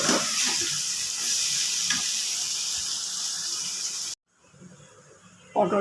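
Pointed gourd paste ground with garlic, green chili, salt and turmeric sizzles and fries in a wok, a steady dense crackle that runs loud and continuous before cutting out to near silence, then a brief clatter at the end.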